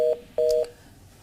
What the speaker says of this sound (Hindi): तो फोन लगता है कट हो गया